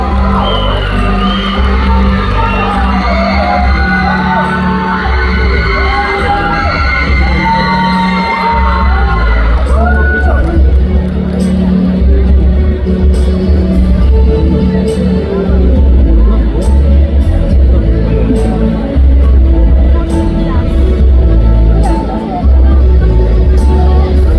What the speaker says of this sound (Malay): tepukan gemuruh untuk Ngadau Bandaraya Kota Kinabalu, Dona Deidre dan Philip.